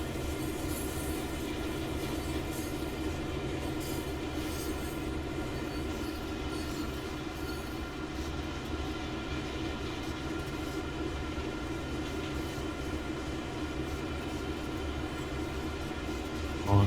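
A CN GP9RM diesel locomotive hauls a string of tank cars in Train Sim World 5 on the Oakville Subdivision, a steady droning engine and rolling rail rumble that stays even throughout.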